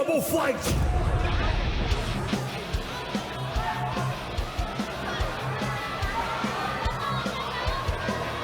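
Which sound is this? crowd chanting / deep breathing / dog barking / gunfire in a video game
crowd chanting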